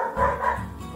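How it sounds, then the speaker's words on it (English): A single dog gives one short bow-wow bark, close and moderately loud, with no talking around it. "This is a dog."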